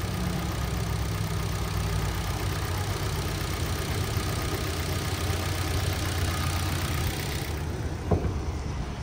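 A 2011 Kia Forte EX's 2.0-liter four-cylinder idles steadily under the open hood, a continuous close engine hum with a brief knock near the end.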